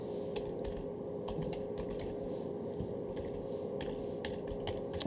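Keystrokes on a computer keyboard as an email address is typed, a steady run of light, close taps over a constant low hum, with no one talking.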